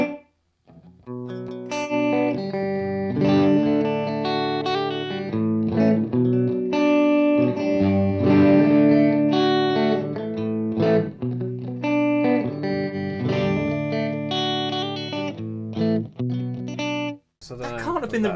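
An electric guitar played through a Strymon Iridium amp modeler with reverb rings out in sustained, slightly distorted chords, loud and continuous, before a brief drop and restart at the end.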